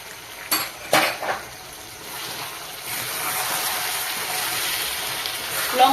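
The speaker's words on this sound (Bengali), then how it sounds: "লঙ্কা গুঁড়ো দিয়ে কিছুক্ষণ নাড়বো।" Chicken with chilli powder is stirred in a pan: a few sharp metallic clinks of a utensil against the pan come first, then a soft steady sizzle and scraping continues nearby, with no voices.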